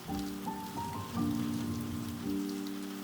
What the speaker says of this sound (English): The rain outside seemed to soften